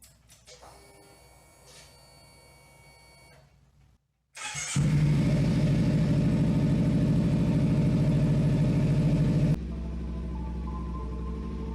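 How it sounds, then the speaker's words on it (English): A motorcycle engine cranks and catches after a coolant change, then settles into a loud, steady idle that drops slightly in level near the end; close up, no talking. "close the radiator cap and start the engine."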